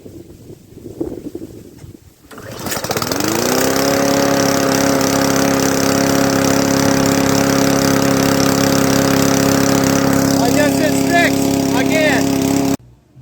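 Husqvarna lawn tractor engine cranking after sitting for hours, catching and settling into a steady loud idle that runs on before cutting off abruptly at the end.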